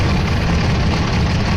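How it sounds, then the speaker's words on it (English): A Messerschmitt Me109 German aircraft engine runs steadily at close range, a loud, dense, continuous low rumble with no breaks and no voices. "It's a shame because the German engine is very, very good."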